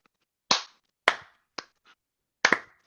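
Podcast hosts clap to close out their show: a few sharp, separate claps that are loose and not in unison, four main hits with a faint one between them, close to the microphone in an otherwise quiet room.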